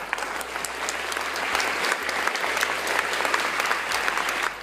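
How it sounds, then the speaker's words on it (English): Audience applause at the end of a lecture, a steady wash of many hands clapping at moderate volume that holds for several seconds without voices. "I don't think you could see it, but the clapping wasn't as loud."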